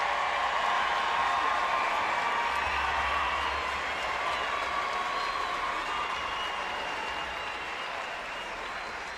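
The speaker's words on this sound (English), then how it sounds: "They deserve that standing ovation without question" A large crowd in a high school basketball arena gives a standing ovation after a state tournament semifinal, with loud, sustained applause that fades only slightly over several seconds.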